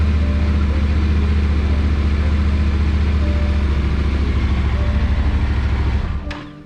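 Yamaha Tenere 700 motorcycle idling up close, a steady low engine rumble that holds even for about six seconds before the engine is shut off and the sound fades away.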